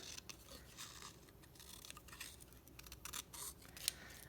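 Scissors snip through a paper doily in a string of quick, crisp cuts, close by and fairly quiet, with no talking.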